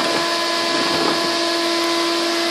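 A Shop-Vac runs as exhaust while defrosting a freezer, producing a steady, loud whooshing roar with a constant motor whine that holds unchanged throughout.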